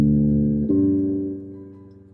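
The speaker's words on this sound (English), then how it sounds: "And a fourth sounds like this." A perfect fourth interval rings out on a sustained harmonic instrument, one tone held and a second tone entering at about 0.7 seconds, then both decaying together, clear and alone.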